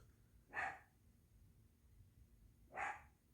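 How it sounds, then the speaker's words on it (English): Two short, distinct dog barks, separated by a pause of about two seconds, faint and somewhat distant over quiet background. "And what is he barking at?"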